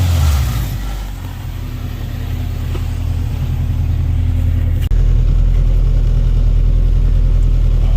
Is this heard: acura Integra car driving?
yes